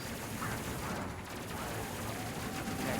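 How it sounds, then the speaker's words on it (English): Enemy gunfire in a space battle in the video game Space Crew forms a dense, continuous rumbling barrage of rapid shots and blasts that holds steady throughout without clear gaps, and no one talks. "See if we can dodge some of this incoming enemy fire."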